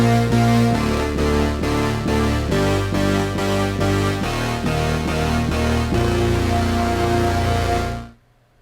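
Synth keys patch played with the arpeggiator off, sustained layered chords changing in a steady rhythm, loud and close, then cut off abruptly near the end.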